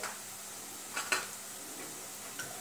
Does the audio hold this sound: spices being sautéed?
yes